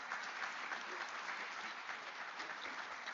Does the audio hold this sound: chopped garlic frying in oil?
no